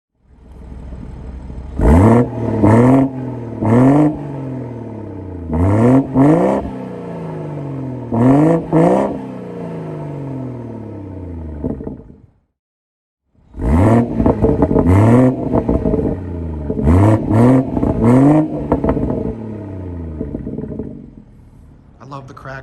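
A BMW 340i with a cat-back exhaust revs repeatedly, loud rising and falling engine blips in two bursts separated by a brief silence, with crackles as the revs drop.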